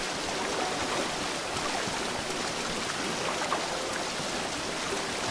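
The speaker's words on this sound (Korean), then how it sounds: "오를 수 없는 폭포인가 이거?" A waterfall in Zelda: Breath of the Wild gives off a steady, even rushing roar of falling water that holds for the whole stretch, with no voices.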